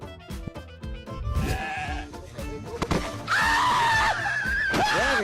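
A male goat bleats loudly in a long, wavering cry near the end of the clip, after a series of sharp knocks and scuffling thuds from a rough physical scuffle caught on CCTV.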